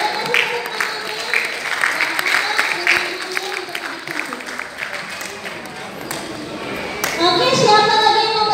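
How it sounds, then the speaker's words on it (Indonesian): An audience of schoolchildren at a talk on the history of Keraton Cirebon applauds a student who asked a question. The clapping is dense and sustained, with voices over it and a brighter burst near the end. "Boleh kasih tepuk tangannya."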